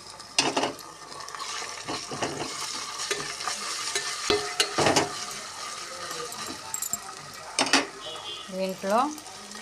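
A spoon scrapes and stirs browned onions with masala in a hot pan for chicken biryani, giving close, irregular scraping strokes over a steady sizzle and frying crackle, with no talking.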